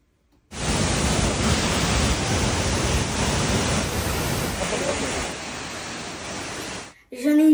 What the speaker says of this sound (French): vous allez voir les plus belles cascades du Sultanat d'Oman